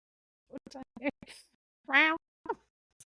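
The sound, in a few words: person imitating a cat meow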